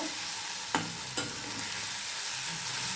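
Salted food being sautéed in a pan, a constant hissing sizzle close up, with two brief scraping knocks as a spoon turns the mixture, and no speech.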